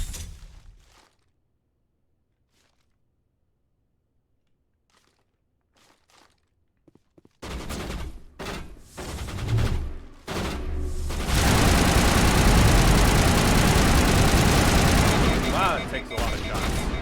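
Gunfire in the video game Mass Effect Legendary Trilogy: after a near-silent stretch with faint clicks and steps, loud rapid bursts of shots break out, then a dense, sustained barrage fills the rest.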